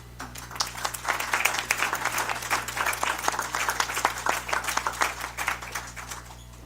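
A school district meeting audience applauds, a moderate crowd clapping steadily in a room, with a constant low hum in the background.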